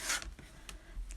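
A rotary cutter rasping through quilting fabric along a ruler while cutting pieces for an Arrows quilt block, one quick scraping stroke at the start followed by fainter brushing touches, close and quiet with no talk.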